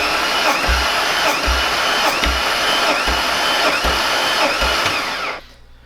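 A 25-year-old 12-valve VR6 engine, its transmission still attached, cranks on a spare battery through jumper wires for a compression test. It gives a loud, steady whir with rhythmic compression thumps about every 0.7 seconds, then stops abruptly.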